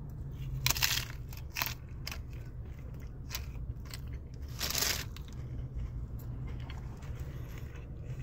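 A bite into a Taco Bell plain crunchy taco with seasoned beef: a couple of sharp crunches near 0.7 and 1.6 seconds and a louder one near 4.8 seconds, close by over a steady low hum, no talking.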